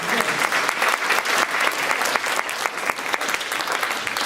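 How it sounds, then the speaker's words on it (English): Applause at a 2017 Streamwood High School band concert: a steady, full wash of crowd clapping, fairly close and continuous throughout, with no one speaking. "That's pretty amazing and deserves another round of applause."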